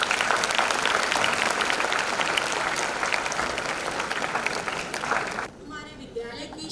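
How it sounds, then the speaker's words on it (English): An audience applauds at a school annual day function as a potted plant is presented to the chief guest, steady dense clapping that cuts off sharply near the end, leaving quieter room sound with faint voices. "A round of applause, please."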